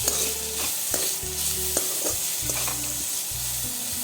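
A spatula scrapes and stirs raw peanuts roasting in a hot pan, rhythmic scraping strokes over a constant sizzle.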